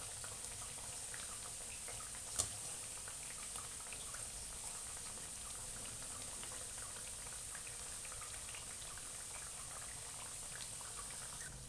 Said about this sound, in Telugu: తిరిగేసుకొని సిమ్లో పెట్టి వేయించుకోవాలి